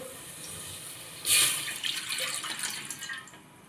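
Water splashes into a cooking pot on a gas stove as the first step in making lapsi, with a sudden pour at the start that settles into a softer trickle.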